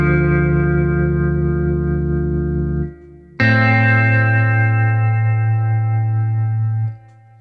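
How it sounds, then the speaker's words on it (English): Two sustained two-note guitar chords from the Desolate Guitars sample library ring out one after the other, each held for about three to four seconds, clean and loud with a slight shimmering, effected tone and nothing else around them. "They got these two-note chords."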